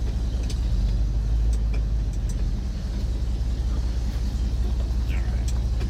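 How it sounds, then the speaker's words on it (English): A 1980 Ford F-350 service truck's engine runs with a low, steady rumble close by, swelling slightly as the throttle is touched, without speech. "You just barely breathe on this gas pedal. It just whoomp."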